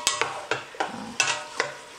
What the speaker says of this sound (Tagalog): Prito-prito lang natin ng onti dyan yung manok.